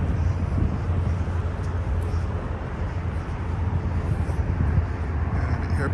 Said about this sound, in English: an airplane taking off from the Billy Bishop Island Airport